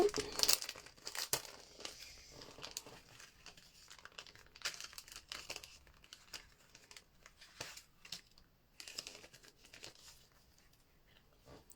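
Die-cut paper pieces for scrapbooking come out of their packaging with close, quiet, irregular bursts of crinkling and rustling plastic, scattered bursts over about twelve seconds, with no talking.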